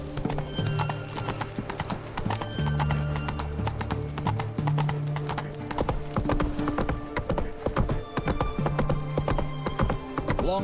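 A horse gallops in The Witcher 3 video game, with steady rhythmic clip-clop hoofbeats over about ten seconds and a whinny along the way. Game music plays faintly underneath.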